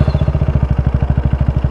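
Husqvarna Vitpilen 250 motorcycle with an aftermarket exhaust, its engine firing in a fast, steady, deep thumping rhythm close to the listener, with no talking over it.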